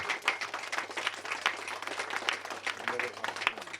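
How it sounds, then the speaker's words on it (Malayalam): A crowd at a 2014 NSS karayogam family gathering claps steadily in dense, continuous applause while elderly members are honoured; it sounds faint and distant, with a low hum beneath. "എല്ലാരും നല്ലോണം കൈയടിച്ച്."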